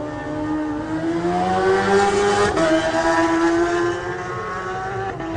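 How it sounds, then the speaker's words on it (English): A Smiths Racing BMW superstock motorcycle ridden by Peter Hickman pulls away at the TT superstock race start, its engine revving loudly and rising through the gears, close and alone. "And now the Smiths Racing BMW of Peter Hickman. And away smoothly indeed is Peter Hickman."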